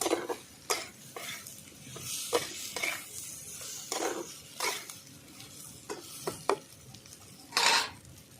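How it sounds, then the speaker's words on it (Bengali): Potatoes being stir-fried with spice paste in a pan, heard close as repeated scraping strokes of a spatula against the metal over a low, steady sizzle, with no voices. "ভালো করে আলুটা মশলার সঙ্গে কষিয়ে নেব"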